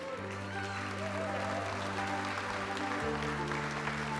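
At the Gourmand awards ceremony in Cascais, an audience applauds over sustained background music whose notes change partway through, with the clapping steady and moderately loud throughout.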